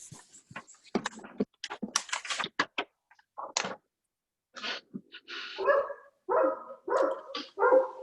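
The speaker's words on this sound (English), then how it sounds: "Sorry about the dog." A dog barks repeatedly in a house during a remote municipal planning board meeting, a run of sharp close barks mixed with clicking keyboard typing and no talking.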